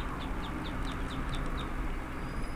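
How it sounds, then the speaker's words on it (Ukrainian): Ducklings chirp in a quick series of high, evenly spaced peeps over a steady engine-like rumble inside a moving car. "У мене в машині жива продукція, каченята маленькі."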